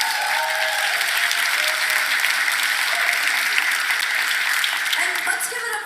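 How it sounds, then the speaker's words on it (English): Sustained crowd applause at a school film festival honoring first-year film students, a thick even roar of clapping that holds steady throughout and tapers slightly at the end. "Everybody, please give a round of applause to our Film 1 students"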